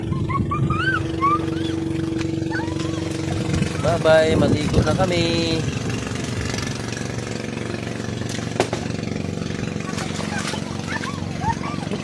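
A motorboat engine drones steadily in the background throughout while people chat and call out nearby, with a few brief louder bursts.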